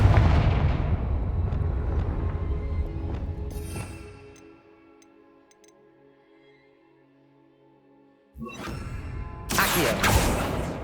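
Confringo spell blasts in Hogwarts Legacy during a giant armored knight boss fight: loud booming explosions at the start fade into quiet ringing, then a fresh burst of heavy blasts returns near the end.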